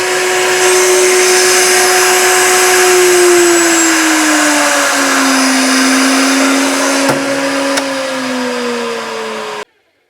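A router motor mounted in a router table runs at full power, 22,000 RPM, as a loud steady high whine whose pitch drifts slightly before it cuts off abruptly near the end.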